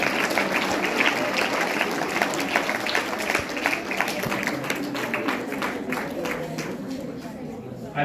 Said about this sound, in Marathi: जोरदार टाळ्या आपण ताईंसाठी वाजवूया.